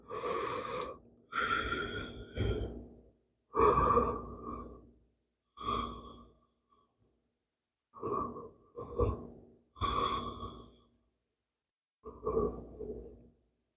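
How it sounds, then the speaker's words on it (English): Heavy, deliberate breaths repeat through alternating-side yoga sets for the neck and upper back, about nine separate close inhales and exhales with short pauses between, and no talking. "Working with your own breath pattern."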